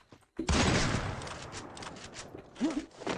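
Gunfire in a shooter video game opens with a sudden loud burst, then rattles on in rapid shots that fade and return, with a brief voice exclamation near the end.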